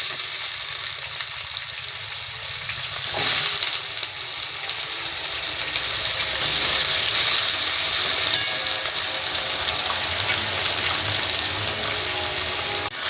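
Potatoes and onions sizzle steadily in a pan, a constant bright hiss with a brief louder flare of spattering partway through, close and alone.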